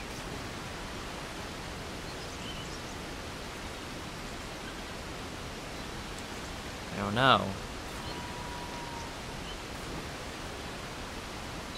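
A steady, even rush of falling water from a waterfall in the video game ICO fills the whole stretch, with a brief spoken remark near the middle.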